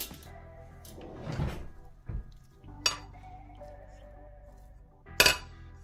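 A spoon clinks and taps against small moulds while dense candied-fruit cake batter is scooped in, giving scattered quiet knocks and a few sharp clinks with soft scraping between them.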